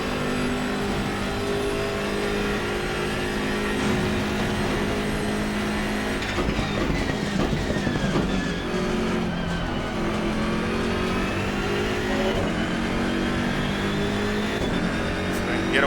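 BMW M6 GT3 race car engines roar steadily in Assetto Corsa Competizione at Mount Panorama, with close, loud revving and gear changes and some tire squeal, while someone talks over them.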